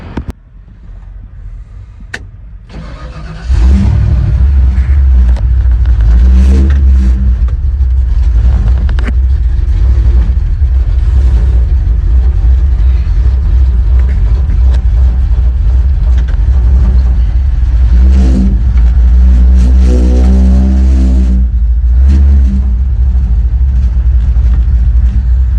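A car pulls away on a road heading to a car show, its engine and tyre rumble rising loud and steady after a quiet start, then holding a continuous close-up drone with shifting tones.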